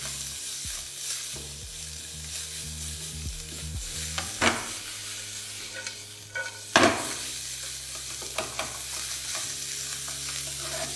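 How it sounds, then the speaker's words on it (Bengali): Chopped garlic and sliced onion fry in a pan with a steady low sizzle, broken by several sharp stirring scrapes and clicks of a utensil, close and fairly quiet. "এই পেঁয়াজ আর রসুনটাকে আপনাদের ভালো করে একটু ভেজে নিতে হবে।"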